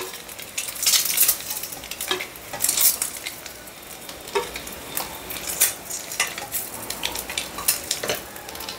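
Eggs for a hariyali green egg curry fry in a pan, a steady sizzle with intermittent scraping and stirring clatter from a spatula, close and fairly loud throughout, no voices.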